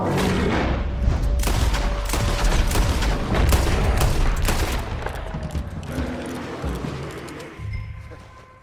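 Gunfire in the Red Dead Redemption II video game: a dense run of close, loud shots and booms over several seconds, easing off toward the end with mechanical clatter.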